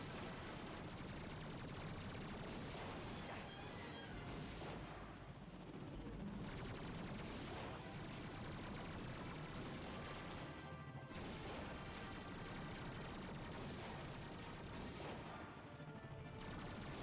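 Steady gunfire, dense and continuous, pours onto the Clark X67 shuttle in the Ratchet & Clank game, with overlapping bursts and crashes across the whole stretch and only brief dips.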